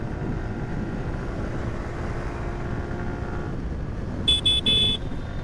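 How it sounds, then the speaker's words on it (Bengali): A Suzuki Gixxer Monotone motorcycle's exhaust drones steadily while riding, a continuous low rumble mixed with wind noise, with a few short high tones near the end. "বাইকটা সাইলেন্সারের অনেক মজা, সাইলেন্সারটা সাউন্ডটা আমাকে অনেক ভালো লাগে"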